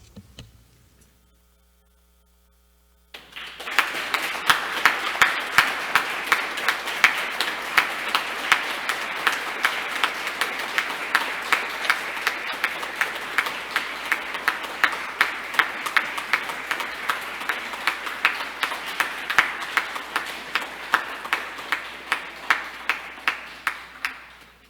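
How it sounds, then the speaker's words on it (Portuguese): Council members and audience clapping during an ordinary plenary session of a municipal chamber, a long sustained round of applause starting after a short quiet pause, steady and moderately loud over a constant low electrical hum. "Vamos todo mundo dar uma salva de palmas?"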